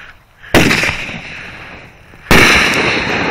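Roman candle firework set off outdoors, firing two sharp, loud bursts about two seconds apart, each followed by a crackling, hissing tail that lingers.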